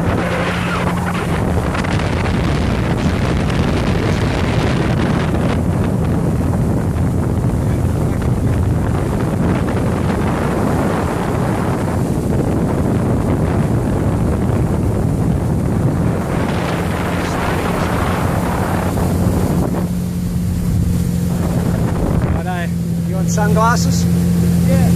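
A motorboat runs on the Murray River in heavy wind, the engine droning steadily under loud wind buffeting the microphone, with people talking near the end.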